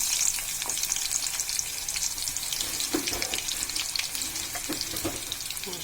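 Onions sizzle steadily in hot oil for a goat tongue and brain fry, a continuous close crackle with faint clinks and stirring scrapes and no talking.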